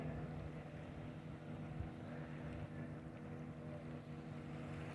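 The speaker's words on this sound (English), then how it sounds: "Can you see that boat zooming by?" A boat motor drones steadily in the distance, a low continuous hum with faint wind noise over it.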